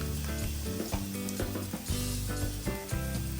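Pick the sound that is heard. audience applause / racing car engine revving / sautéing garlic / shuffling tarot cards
sautéing garlic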